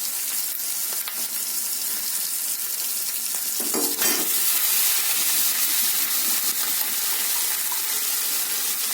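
Green chilies and curry leaves hitting hot oil in a tempering pan, producing a loud, steady sizzle and hiss that runs the whole time, with a brief bubbling flare midway.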